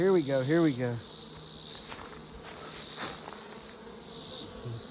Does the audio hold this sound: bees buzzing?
yes